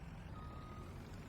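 Steady electronic reversing beeps sound from a rollback wrecker truck backing up, a repeating tone over low diesel rumble, moderately close and alone without talk.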